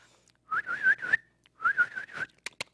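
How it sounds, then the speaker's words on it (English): A sheepdog handler's speed-up whistle: two bursts of short, rapidly repeated warbling notes, clear and close, followed by a few sharp clicks. "The speed-up whistles were all short, rapidly repeated notes."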